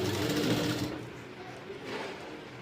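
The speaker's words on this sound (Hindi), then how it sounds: "अब मैं सिलाई लगा रही हूँ।" A sewing machine stitches a Rajputi lehenga in a short burst, running close and steady for just under a second before easing into quieter, uneven whirring.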